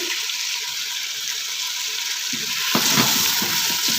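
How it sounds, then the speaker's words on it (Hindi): Chicken pieces fry in a pan with salt, chili, turmeric and cumin for chicken aloo, a steady hiss that swells louder near the end with stirring clatter, no voices. "अब हम इसको भी 2 से 3 मिनट तक चिकन को फ्राई करेंगे"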